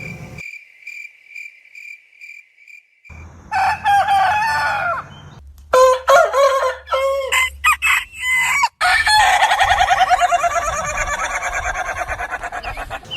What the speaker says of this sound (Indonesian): Lalu pagi datang dengan suara ayam yang nyaring.